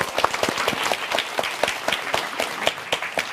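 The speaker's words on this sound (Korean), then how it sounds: "박수 한번 주세요." Audience applause during a live Korean lecture show, a steady patter of many hands clapping close by, lively and even with no voices over it.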